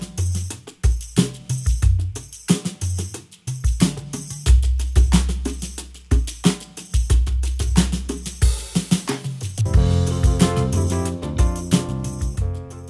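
Layered drums and percussion from two instances of Goran Grooves' Handy Drums, one for drums and one for percussion, playing a busy groove with deep kicks and dense hits. A fuller, brighter percussion layer enters toward the end.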